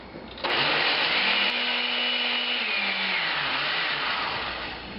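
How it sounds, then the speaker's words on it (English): A blender pulsing pesto roars loudly in one sustained run, its motor pitch steady then slowly winding down near the end, with no talking. "so you've got that in the blender, and you just need to pulse it."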